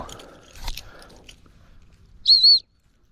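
A single sharp whistle blown to call back a trained ferreting dog in a back paddock, a steady high tone lasting about a third of a second, heard after faint rustling and handling noises.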